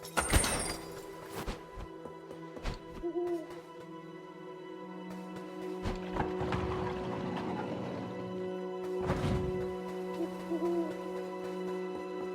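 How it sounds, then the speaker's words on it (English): An owl hoots in a dungeon in the video game Death's Door, a soft, fairly distant hooting amid ambient game sounds and occasional thunks, with no talking. "I can hear another owl."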